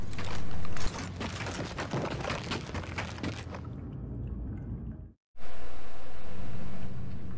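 Gunfire in Gears of War 4 Horde mode on the Fuel Depot map: a dense, loud stretch of rapid shots and clattering action that thins out, then cuts to silence before steady loud game noise resumes.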